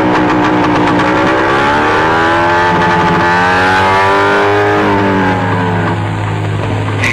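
A motorcycle engine drones loud and close, its pitch rising and falling as the rider revs and pulls away, holding strong throughout before easing slightly near the end.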